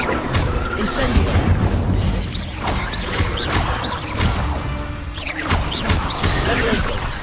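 Incendio fire spell cast in Hogwarts Legacy, a dense roar of fiery bursts and booming impacts layered over busy combat noise, with voices calling out through the din.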